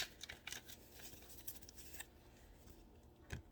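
A card is drawn from a tarot deck by hand: quiet, close papery rustles and soft sliding, with a couple of crisp snaps near the start and end.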